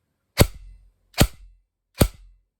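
An airsoft AEG M4 test-fires BBs in three evenly spaced single shots, each a sharp, loud snap with a brief low thump after it; no one speaks.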